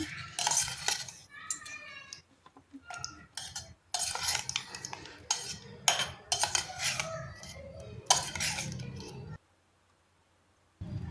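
Sweet corn chaat being stirred with peanuts and chopped coriander in a bowl, a string of close, crisp spoon scrapes and clinks in uneven bursts, ending in a short silence before one last scrape.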